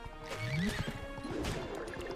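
A horse neighs in the video game SpongeBob SquarePants The Cosmic Shake, a rising whinny followed by a second neigh during a chase, with clip-clop hooves and busy game sounds underneath.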